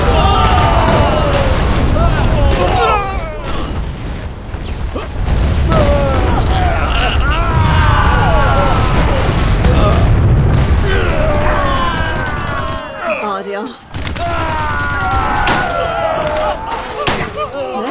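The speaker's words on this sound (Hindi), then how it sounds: "धमाका शुरू।" Explosions and gunfire roar in an action movie, dense booms and blasts layered with whistling effects and music, loud and continuous with a brief dip near the end.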